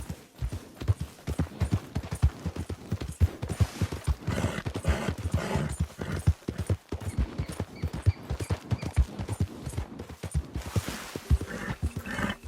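Horse galloping in Red Dead Redemption 2, giving a rapid, continuous clip-clop of hooves close by with steady rhythm throughout and some louder rumbling and movement noise mixed in.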